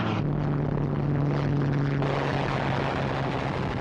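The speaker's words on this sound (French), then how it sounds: "Les avions américains présents sur la base viennent à leur rencontre." Old American Brewster Buffalo fighters of WWII climbing out from the Midway island base in archival footage: a loud, steady propeller-engine drone with a low tonal hum, continuous throughout and with no voices.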